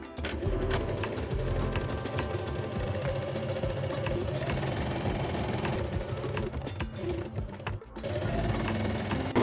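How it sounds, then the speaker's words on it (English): A sewing machine stitches the inseams of wide-leg pants, running in a continuous mechanical whir with small changes in speed and a brief pause near the end. "Place the pants right sides together, pin, and stitch the inseams."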